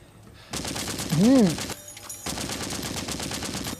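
A mounted .50-caliber machine gun firing in the zombie game Into The Dead 2, sustained rapid close bursts with a brief pause midway, with a voice talking over the shooting.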